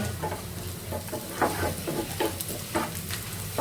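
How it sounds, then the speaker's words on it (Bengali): Lentils hit hot oil in a home kitchen pan and fry with a steady hiss, while a few stirring scrapes and clatters come through close and clear, with no talking. "এই তো আমি এখানে ডাল তেলে দিয়ে দিচ্ছি"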